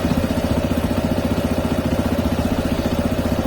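A brand new CSC RX3 motorcycle engine idles high, a loud, steady mechanical putter with a fast, even pulse heard up close and uninterrupted.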